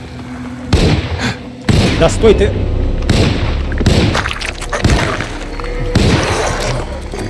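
Repeated loud gunshots in the video game Alone in the Dark, several heavy booming blasts fired in quick succession, with a voice talking over them.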